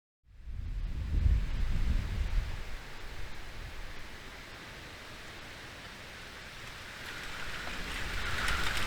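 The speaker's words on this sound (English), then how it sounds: "The wind's blowing 60 miles an hour according to the Weather Channel app. We're getting a bit of pea-sized hail." A storm with strong wind gusting around 60 miles an hour, rain and pea-sized hail makes a steady, dense roar that swells at the start, eases slightly, then builds again, with no voices.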